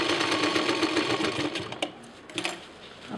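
A sewing machine stitches a zipper onto a shoulder bag made from an old kurta, with a fast, dense rattling run that slows and then breaks into a couple of short bursts.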